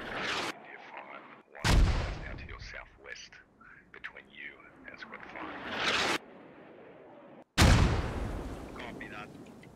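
Incoming mortar fire in a military video game: several heavy, booming blasts and rumbling impacts break in one after another over a noisy battlefield background.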